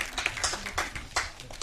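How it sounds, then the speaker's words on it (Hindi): Audience applause at a Hindi film trailer launch in a mall, a dense burst of clapping from a crowd, moderately close, with scattered louder claps standing out through the short stretch. "जोरदार तालियां वरदान सिंह के लिए"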